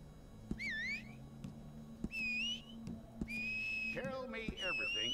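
A player's whistle in Red Dead Redemption 2 Online, several short rising and falling whistle calls one after another over a steady low game hum, close and clear with no talk.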